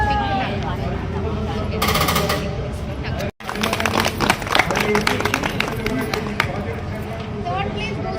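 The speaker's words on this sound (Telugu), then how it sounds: "వందన అందరూ క్లాప్ కొట్టాలి" Audience applause at a rangoli competition prize announcement, a dense patter of claps running steadily under crowd noise and talk, broken by a brief silent gap midway.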